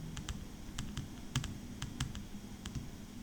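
Typing on a computer keyboard, about a dozen light, irregular keystroke clicks close by over a quiet background, with no talking.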